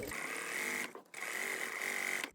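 A sewing machine runs steadily while stitching along a cushion cover seam, a close whirring hum that pauses briefly in the middle before resuming at the same even pace.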